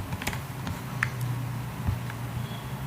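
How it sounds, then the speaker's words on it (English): Soft, steady clicks of a computer keyboard as a material code is typed in, close and quiet over a low background hum. "So here type our material code."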